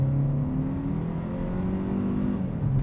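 A 2020 Hyundai Sonata Limited accelerating from the driver's seat, a steady low engine drone with rising harmonic tones that stays even and close throughout, no voices.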